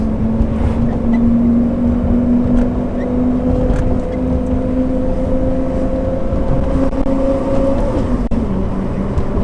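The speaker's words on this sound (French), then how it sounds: "Ça change pas au niveau d'échappement parce que là je suis en valve tout le temps ouverte avec ces échappements là." A Lamborghini Gallardo Superleggera's exhaust with its valves held open drones loudly and steadily from inside the cabin, a continuous throaty engine note with slight pitch shifts as it cruises.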